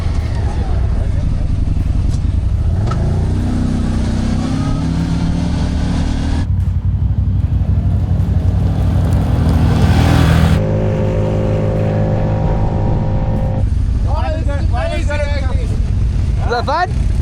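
A 2024 CFMOTO ZForce 800 Trail side-by-side drives along with a loud engine drone that rises and falls with throttle, heavy wind buffeting across the mic, and people talking over the ride.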